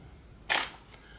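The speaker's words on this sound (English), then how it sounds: "on the Zenit you can actually, what we call, inch the wind on mechanism" The wind-on lever of a Zenit E film camera is advanced once, a single short, crisp mechanical rasp close up, followed by a faint softer click.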